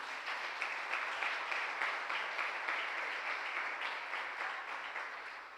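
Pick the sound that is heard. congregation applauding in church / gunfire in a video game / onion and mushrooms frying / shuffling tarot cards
congregation applauding in church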